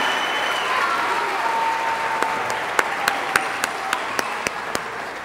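An audience applauds students' work at the 2015 Marion County Student Media Festival, a dense, steady patter of clapping from a crowd, with a few sharper individual claps standing out near the end.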